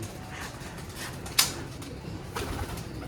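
Pigeons cooing softly in a pigeon keeper's loft, low muted calls under faint background noise, with one brief sharp knock in the middle.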